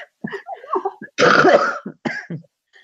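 A harsh, loud cough bursts out close to the microphone between bits of quiet vocal sounds and breathing.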